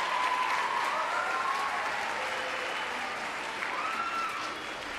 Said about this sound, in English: So will you please clap for these guys for being so forward